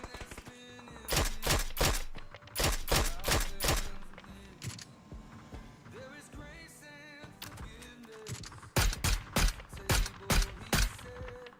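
Bursts of gunfire from a weapon in the battle royale game PUBG, loud clustered shots in short volleys near the start, midway and toward the end, with quieter game sounds between.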